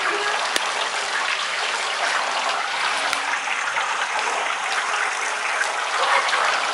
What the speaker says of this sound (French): Ah ouais, non, mais il pleut, c'est un truc de fou.